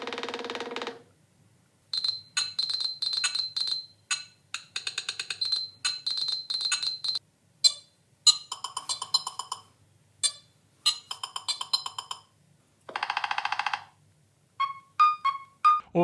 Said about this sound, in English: you can go and set up not only the ringtones, there are 10 to choose from